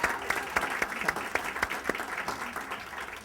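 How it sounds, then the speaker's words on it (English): Audience applause at an opening session of a business summit in Brooklyn, a steady patter of many hands with sharper individual claps standing out, moderately loud and close, lasting a few seconds with no talking. "If I can have a round of applause for the"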